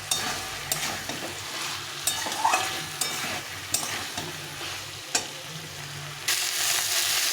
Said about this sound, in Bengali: এখন আমি এর মধ্যে এই ভেজে রেখেছিলাম আলু আর ফুলকপিটা দিয়ে দেবো, দিয়ে একটু কষিয়ে নেব